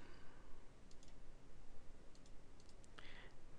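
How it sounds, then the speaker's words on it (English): Several quiet mouse clicks from software on a computer, spaced apart in small pairs and singles over faint background hiss. "I can click OK."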